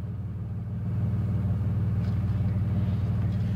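A 2002 Chevy Camaro 35th Anniversary Edition engine idling, a steady, close, low rumbling idle with an even pulsing beat that holds constant throughout, no speech.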